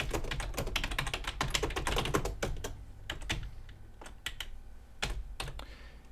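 Rapid typing on a computer keyboard, dense bursts of keystrokes for the first few seconds, then slower scattered taps and a final flurry, close and fairly loud with no talking.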